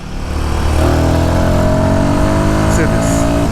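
A 2026 Royal Enfield Guerrilla 450 engine revs hard in third gear, its loud, close drone climbing steadily in pitch against heavy rushing wind.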